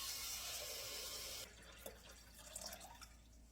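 Water pours steadily into a Thermomix bowl for feijoada, a continuous rushing stream that cuts off abruptly partway through, followed by faint drips, clinks and kitchen handling noises.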